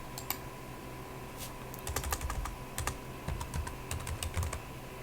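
Fingers type on a computer keyboard into a Windows 11 search box, a quiet close clatter of scattered keystrokes in short bursts over a faint steady hum.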